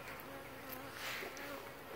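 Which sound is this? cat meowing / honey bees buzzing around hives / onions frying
honey bees buzzing around hives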